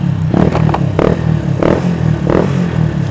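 A motorcycle exhaust revs loud and close, rising in several quick throttle blips over a rumbling idle.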